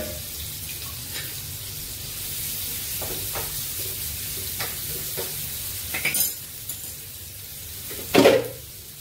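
Onions frying in oil as tempering for chicken sukka, a constant close sizzle with faint clinks of a pan and a louder stir or scrape near the end, no voices.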